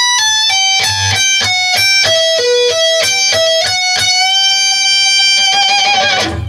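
Electric guitar lick, a loud run of distinct picked notes climbing through an arpeggio, then a sustained note with a half-step bend held under steady vibrato, played alone with no talking.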